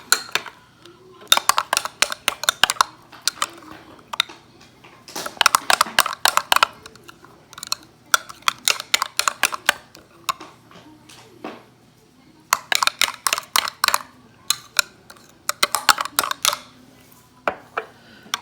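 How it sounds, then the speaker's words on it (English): A utensil stirs white BBQ sauce briskly in a bowl, scraping and clinking in rapid close bursts with short pauses between, breaking up lumps. "Just gonna mix it up good and get all the lumps out"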